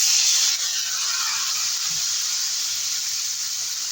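Water hits a hot pan with salt and turmeric, bursting into a loud steamy hiss that starts sharp and then settles into a steady sizzle throughout.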